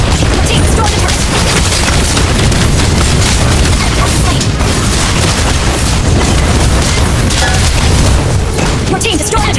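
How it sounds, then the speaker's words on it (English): Loud, dense explosions and rumbling booms as a turret is destroyed in a mobile battle arena game, with the turret falling amid continuous battle effects and announcer voice lines. "Your team destroyed the turret."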